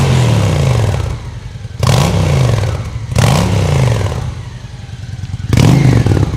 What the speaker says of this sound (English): Quiet at an idle, but she growls up top.